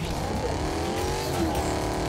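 A car in Fortnite drives close and loud, its engine whining and shifting pitch as it accelerates, with a rough continuous rumble and no talk over it.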